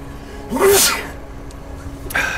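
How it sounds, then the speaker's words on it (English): A video game character's single sharp sneeze in Deus Ex: Mankind Divided bursts out near the start, loud and close, followed by quiet background and a faint breathy sound near the end. "I think I'm gonna sneeze"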